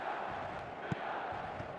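Match-day football stadium crowd: a steady, dense roar of many voices filling the space, with a brief louder shout rising out of the mass near the middle.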